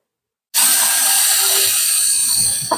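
A cordless screwdriver fitted with a small screw bit whirs up suddenly after a moment of silence and runs steadily at a high, buzzing pitch for about two seconds, close and loud.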